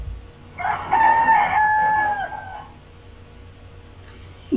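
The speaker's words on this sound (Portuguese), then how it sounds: "Agora é os dois ao mesmo tempo, o galo e o leão." A rooster crows loudly in one drawn-out, wavering call lasting about two seconds, close and clear against a quiet background; no roaring lion is distinguishable alongside it.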